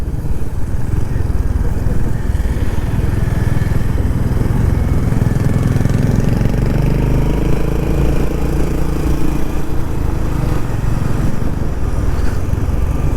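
A Honda Hness CB motorcycle engine drones loud and close while riding on a sunny day trip to Kanthalloor, its pitch rising and falling with throttle and shifts, with no talk over it.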